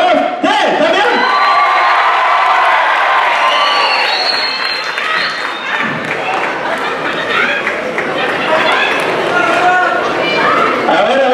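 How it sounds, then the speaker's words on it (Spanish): A live audience at a choreographic dance show shouts and cheers together on a count of three, a loud, sustained crowd roar with applause and children's shouts filling the whole stretch. "A la cuenta de tres, ustedes van a gritar también"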